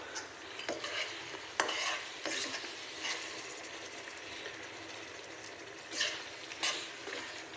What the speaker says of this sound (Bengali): এখন মশলাটাকে কষাতে থাকবো